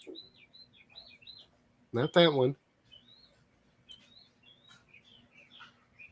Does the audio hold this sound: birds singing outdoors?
yes